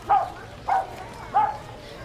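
A puppy gives three short, evenly spaced yelping barks, fairly close and of moderate loudness, over a low background hum.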